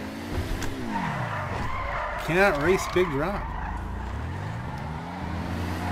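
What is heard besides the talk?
Imorgon car driving and skidding in GTA 5 Online video game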